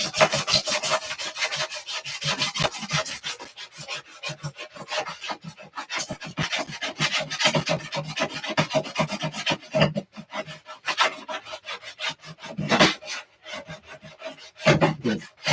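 A scraper rasps wax off a snowboard in quick repeated strokes, close up, with short pauses between passes.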